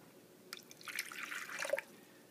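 Water poured into a salad dressing mixture, a short burst of drips and trickling splashes lasting about a second, close and quiet with no talk.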